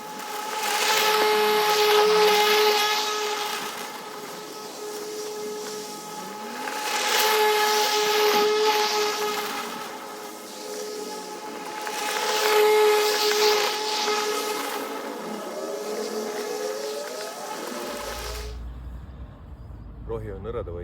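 Husqvarna LB 144i battery lawn mower running on grass, a steady whirring whine with a tonal hum that swells and eases in slow waves, close and loud before stopping abruptly near the end.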